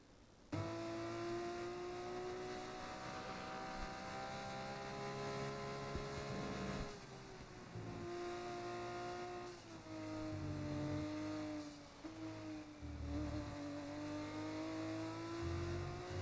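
F2 race cars roar through a racing video game, a sustained loud engine drone with shifting pitch and brief gear-change dips, steady throughout with no talking.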